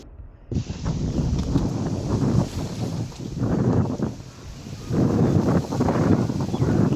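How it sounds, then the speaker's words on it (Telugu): Strong wind gusts across an open tomato field on a farm, roaring steadily through the microphone with surges that swell and ease over several seconds, no voices present. "చూడండి బాగా గాలి తోలుతుంది"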